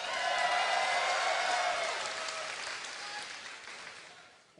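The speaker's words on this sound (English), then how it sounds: "give a cheer for mTwDeMusliM" A large crowd at a Blizzcon 2010 StarCraft esports match claps and cheers loudly, the applause swelling at first and then gradually fading away.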